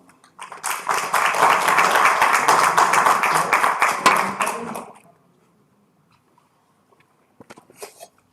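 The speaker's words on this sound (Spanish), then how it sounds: "Le damos un fuerte aplauso a Juan." A burst of audience clapping at a university conference talk swells quickly, holds steady for about four seconds, then stops abruptly, leaving near silence with a few faint taps.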